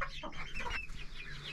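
A hen and her chicks in a small farmyard flock cluck close by: steady overlapping soft clucks and faint chick peeps fill the whole moment without any talking.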